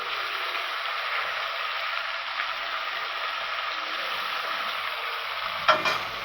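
Fish frying lightly in hot oil on a home stove gives a steady, close sizzle and crackle that runs throughout, with a brief clatter near the end.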